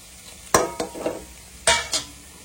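Red chilli powder, cumin and coriander powder stirred into sautéed onions in a pan for a chicken roll filling, with a few sharp spoon scrapes and knocks against the pan over a faint sizzle.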